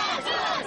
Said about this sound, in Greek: Εκατοντάδες πολίτες τον υποδέχτηκαν με έντονες αποδοκιμασίες και πετώντας του αυγά.